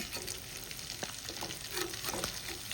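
Sardines fry in a pan for a spicy fish masala, giving a quiet, even sizzle with soft crackles and a few scraping stirs and small spatters near the end.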